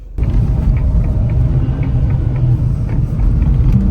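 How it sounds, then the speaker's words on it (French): A Merco utility vehicle's engine rumbles loud and close, a steady low drone that holds throughout without a break, no talking. "j'ai la Merco. Un véhicule utilitaire de renom."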